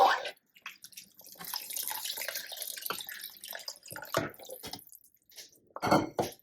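About a cup of water poured into a pot of vegan poblano soup with tomatoes and black-eyed peas, an irregular splashing and trickling stream broken by short drips and knocks, close and fairly loud.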